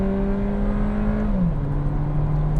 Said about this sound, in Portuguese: vou dar uma acelerada aqui agora